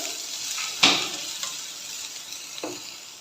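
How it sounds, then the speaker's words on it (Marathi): Chopped onion and green chillies frying in oil in a pan while anda bhurji is being made, a steady soft sizzle with a few sharper stirring scrapes, close and without speech. "एक बारीक चिरलेला कांदा आणि कांद्याला छान असा गोल्डन ब्राऊन कलर येईपर्यंत परतून घेऊया आपण"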